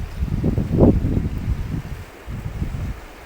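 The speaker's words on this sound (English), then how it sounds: "The wind on that day was just insane." Strong wind buffets the microphone during a field recording on a beach, a loud, gusty low rumble that surges and eases over a few seconds.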